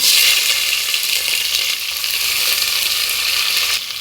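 Onion sizzles loudly and steadily in a hot pan of oil while fenugreek pulao is cooked, a close, continuous hiss with faint stirring and no talk.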